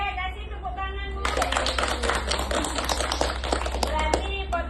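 Audience clapping at a community small-business training session breaks out after a short stretch of talk and continues steadily to the end, fairly close and dense, with voices faintly underneath.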